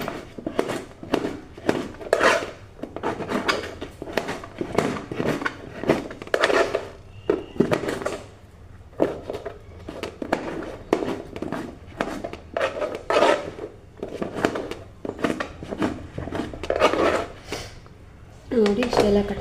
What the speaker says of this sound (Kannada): ಬೇಗ ಬೇಗ ಕಟ್ ಮಾಡಿ ಹಾಕ್ತೀನಿ